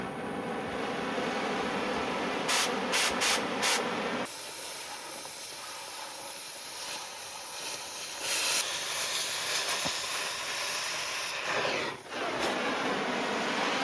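A burning rubber hose on a Hitachi excavator demolishing an abandoned mobile home, giving a continuous loud hiss with bursts of sharper spraying noise and brief high squeals, without talk.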